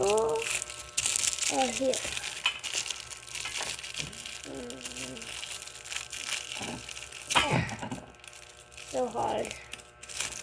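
Plastic packaging of a stand lamp being cut and pulled open, giving loud close crinkling and crunching throughout, with a voice and other talk mixed in.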